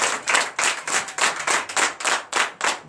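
A congregation at a Sunday church service in Benin claps in a steady, rhythmic beat, roughly four claps per second, loud and close, sounding like many hands striking in unison without voices over it.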